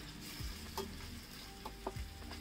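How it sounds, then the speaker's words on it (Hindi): Bitter gourd peels and chana dal frying with onion in a pan, a faint steady sizzle broken by a few soft scraping stirs of a spoon, quiet and close. "अब थोड़ी देर इनको ना प्याज के साथ फ्राई कर लेंगे"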